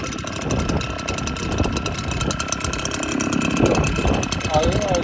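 A Husqvarna snow blower engine runs close by at a steady, chugging idle with slight rises in speed, while a person talks over it.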